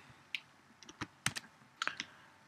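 Close computer keyboard typing in short irregular bursts of crisp key clicks, a few quick strokes clustered together with small pauses between them, quiet room and no talk.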